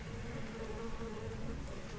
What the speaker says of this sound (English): that bee really took a lot of our health away